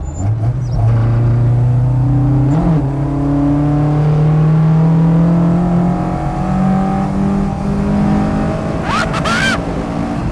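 A Mk1 Ford Escort with a Focus ST engine revs loudly and steadily, pitch rising and falling through the gears, with a brief sharp shift near the start and people speaking faintly underneath.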